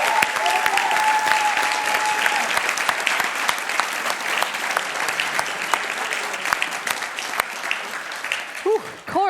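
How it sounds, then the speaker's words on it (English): Loud, dense audience applause for competition teams at the 2018 Imagine Cup World Championship finals, sustained clapping filling the hall, with voices briefly audible near the end. "Let's give them all a round of applause"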